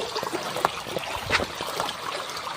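Water flows and trickles close by outdoors, a steady irregular burbling with small splashes throughout.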